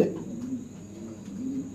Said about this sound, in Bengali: দর্শক এটা একটা নর কবুতর ভাই